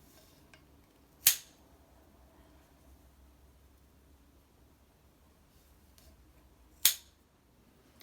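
Scissors snip macrame cord, two sharp isolated clicks several seconds apart over a quiet background.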